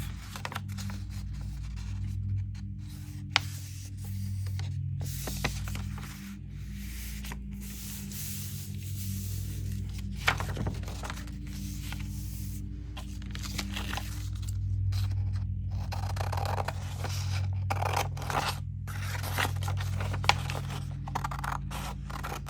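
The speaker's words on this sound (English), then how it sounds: "All right, first let's cut this paper in half." Scissors cut a sheet of paper in half at a crafting table, making steady scraping snips over a low constant hum, with no talking.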